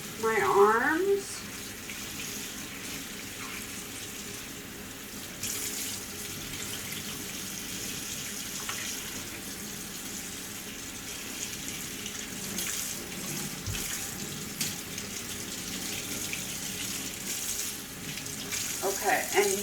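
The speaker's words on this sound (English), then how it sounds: "Now when I'm rinsing, I am rinsing from top of my fingers down my arms." Water tap running steadily into a sink while hands and arms are rinsed during a surgical hand scrub, a continuous broadband splash that carries on alone for the whole stretch.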